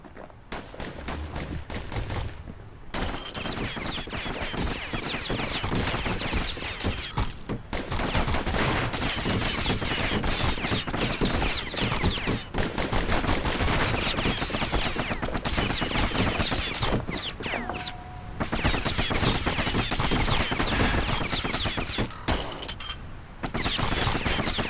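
The Kid's dual guns firing in Bastion, a dense, nearly continuous stream of rapid shots broken by a few short gaps, loud and close with no talking.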